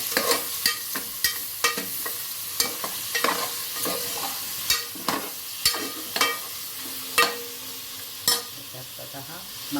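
Mutton masala stirred and sautéed in a pan for a Kolhapuri mutton dish, with a soft steady sizzle and repeated sharp scrapes and clinks of a spoon against the pan at an uneven rhythm, close up and without talk.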